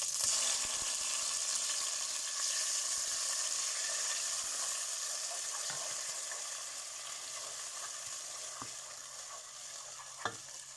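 Onion and garlic fry in about two tablespoons of oil for a rui fish curry, giving a continuous hiss and sizzle that eases slightly over time, with a few soft stirring clicks near the end.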